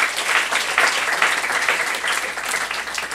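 A congregation at a Saturday worship service bursts into steady, dense applause that holds at an even level throughout, with no clear pauses.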